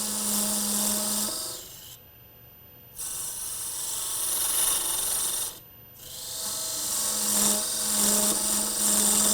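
A lathe tool scrapes and hisses against spinning wood in long rasping passes while parting off the base of a gimbal clock, broken by two brief pauses as the cut stops and restarts.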